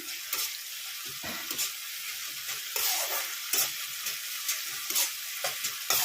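Sliced onions frying in a pan after a splash of water is added, crackling and sizzling steadily with intermittent scraping stirs and clinks of a spatula, close up and without talk.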